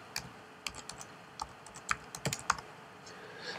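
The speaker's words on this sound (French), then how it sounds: "le plus simple est ici de taper subdivision" Quick, light keystrokes on a computer keyboard, about a dozen close-up clicks in an uneven burst, faint and alone in a quiet room.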